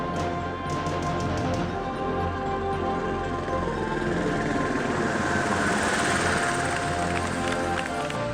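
A helicopter drones loudly and continuously with a steady rotor and engine roar throughout, part of a large magic stage show, with no clear talking over it.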